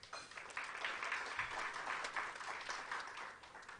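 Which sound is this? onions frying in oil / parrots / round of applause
round of applause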